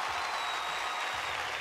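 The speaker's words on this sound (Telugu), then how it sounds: "ఇప్పుడు చప్పట్లు." Studio game show audience applause, a dense, even wash of many hands clapping at moderate distance throughout.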